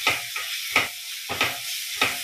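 Eggplant masala for village-style biryani sizzles in a pan, stirred in four steady scraping strokes, each a close, bright swish over the continuous hiss of frying.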